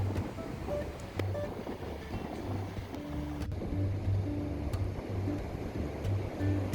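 Steady roar of rough surf with constant wind rumble at South Padre Island beach, waves washing continuously close by, no voices.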